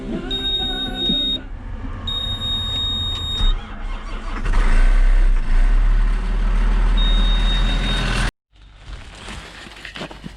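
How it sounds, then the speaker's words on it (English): A farm machine used at harvest idles as it warms up, a steady low engine rumble with a high electronic warning beep sounding at intervals, loud and close, then cutting out abruptly near the end. "Get this thing warmed up, because it don't like to do anything until it's got a little bit of engine heat built."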